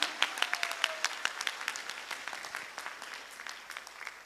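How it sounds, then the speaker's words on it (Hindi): Audience at a business seminar applauding together, a dense, steady clapping that starts strong and gradually thins over several seconds, with no voices over it. "सभी साथियों के लिए एक बार जोरदार जबरदस्त ताली होनी चाहिए सर।"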